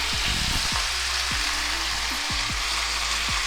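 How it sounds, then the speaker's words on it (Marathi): Ambadi (roselle) leaves sauté over a high flame in oil with chillies and garlic, giving a loud, steady, close sizzle and crackle throughout, with no talking. "गॅस मोठाच राहू द्यायचा आणि छान परतून घेऊ आता आपली आंबाडीची भाजी"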